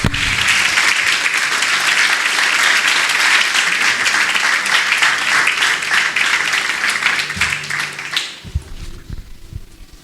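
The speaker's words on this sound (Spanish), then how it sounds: "¿Cuántos alaban a Dios con un fuerte aplauso?" A church congregation applauds loudly during a sermon, a dense, close burst of many hands clapping that holds strong for about eight seconds before quickly dying away.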